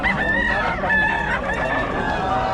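A rooster crows close and loud in two or three drawn-out calls, with faint clucking and background sounds around it.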